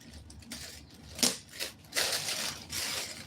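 Scissors snipping through fabric while cutting out a bubu dress, a few short crisp cuts spread across the moment, close and fairly quiet with no talking.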